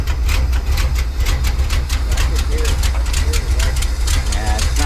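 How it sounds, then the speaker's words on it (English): A 1984 Dodge D100 pickup's big-block V8 idles roughly and unevenly, a loud, deep, continuous rumble with a choppy pulse close by, with people talking over it. "it's not really idling all the way properly"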